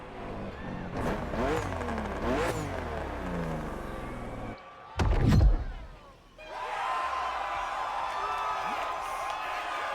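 BMW M2 CS engine in The Crew Motorfest video game, revving up and down through gear changes, then a brief loud thump and a steady high engine drone resuming, with faint crowd noise.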